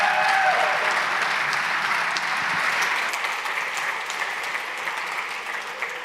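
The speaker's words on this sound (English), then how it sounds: "I can hear a lot of the whooping and the cheering." An audience on a conference main stage claps and cheers after a talk, loud at first and gradually fading over several seconds.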